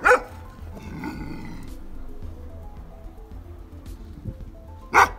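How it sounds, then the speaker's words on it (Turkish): A black dog attacks while puppies are being fed outdoors, with a sharp loud bark at the start, rumbling growls through the middle and another sharp bark near the end. "Şu siyah köpek geldi arkadaşlar."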